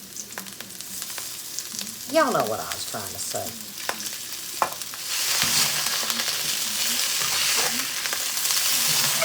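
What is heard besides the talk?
chicken stir-frying in hot wok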